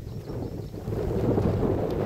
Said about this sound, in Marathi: पाऊस काय थांबायचं नावच घेत नाही